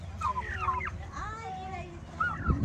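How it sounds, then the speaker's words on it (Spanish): Turkeys on a ranch gobbling, several warbling calls close by in quick bursts, with a short pause between the groups of calls. "Y aquí están los guajolotes que se escaparon de ayer."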